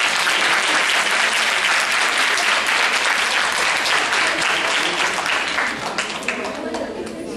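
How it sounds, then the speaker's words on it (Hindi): Loud, dense applause from an audience for student actresses at a Kalidas festival play at Bharati College, steady throughout and tapering slightly near the end. "इन छात्राओं के लिए जोरदार तालियां"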